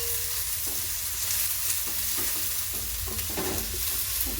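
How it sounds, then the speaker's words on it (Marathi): Onion and garlic sauté in a pan for homemade gobi manchurian, a soft continuous sizzle punctuated by repeated light scraping strokes as the onion is turned, fairly quiet and without speech. "कांदा एक सोनेरी रंग होईपर्यंत जरा परतून घ्यायचा कांदा"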